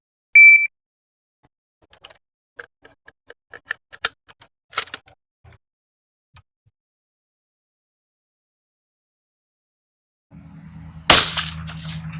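A Savage 110 rifle fired from a tripod: after a shrill timer beep and faint scattered clicks and handling taps, a single sharp, loud shot cracks near the end over a low rumble.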